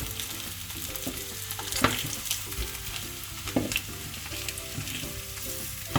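Sliced onions sauté in leftover fish-frying oil for a Kerala-style fish molly, a steady dense sizzle with occasional louder crackles and stirring scrapes throughout, close up with no voices.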